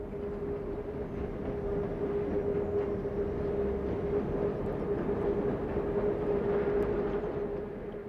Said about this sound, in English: the morning train from Villefranche to La Tour de Carol enjoys a few minutes respite